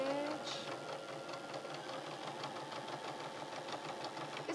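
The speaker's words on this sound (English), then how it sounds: "This sewing machine is great because it's the cheapest." A budget Brother sewing machine stitching steadily at a moderate, fairly quiet level, a rapid even mechanical whir and clatter that runs without pause.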